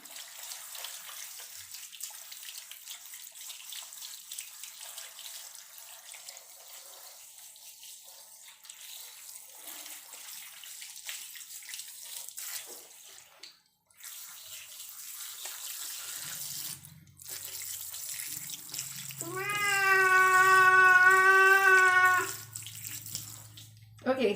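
Water runs from a tap into a bath during a cat's bath, a steady splashing wash with quieter talk-like stretches, and a brief squealing or meowing tonal burst near the end.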